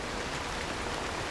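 Steady rain pours in the video game Cairn on a dark, wet day, a dense even hiss with no talking over it.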